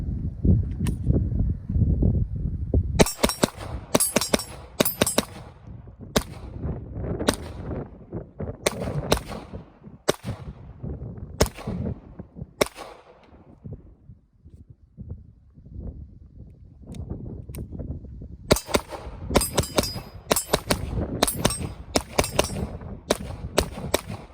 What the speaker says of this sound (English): let's run 2 more mags down range here.